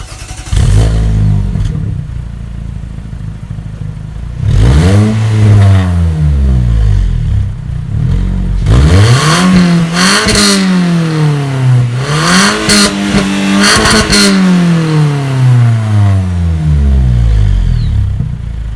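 A Renault Sandero RS engine with its stock exhaust idles, then revs up repeatedly in several rising and falling bursts, loud and close, with a slight rattly edge.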